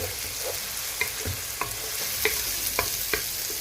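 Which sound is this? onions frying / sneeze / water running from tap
onions frying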